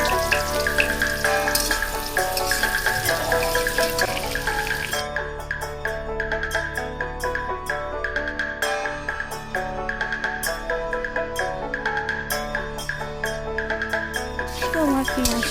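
Onion sizzling in hot oil in a kadai, a steady crackling fry that runs throughout, partly under background music and some speech.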